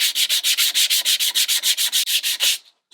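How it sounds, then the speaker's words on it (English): A sandpaper block sands a small half-hull model of a Catalina Wherry, about fifteen quick, even back-and-forth rasping strokes, close and loud, stopping abruptly at the end. "I'll just move on to a block of sandpaper here."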